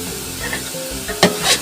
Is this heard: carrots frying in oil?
yes